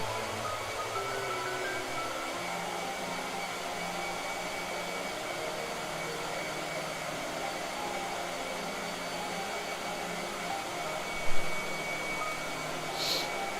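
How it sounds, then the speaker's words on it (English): A blow dryer runs steadily and close by throughout, a constant whooshing drone used to dry a painting, with a brief click near the end. "Blow dryer."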